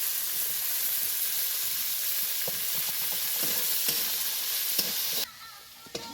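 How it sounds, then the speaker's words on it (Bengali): Carrots and beans sizzling and frying in a pan while being stirred, with a steady hiss and scattered scrapes and clicks of the utensil, the sizzle dropping off abruptly near the end. "তখন গাজর আর বিনসগুলো দিয়ে দেবো। প্রথমে এই দুটো দিয়ে নাড়াচাড়া করবো।"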